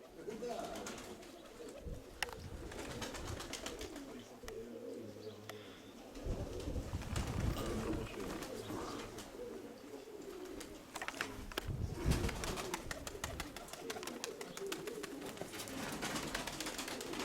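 Pigeons coo in a loft, soft, low calls repeating throughout among rustling and shuffling, with people talking nearby at times.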